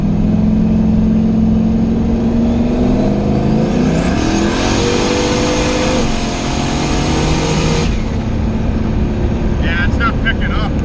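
Boosted Chevstang engine tuned on a MicroSquirt, running loud and steady with a rising then falling pitch as it misfires and breaks up under load, never clearing out, with voices in the background.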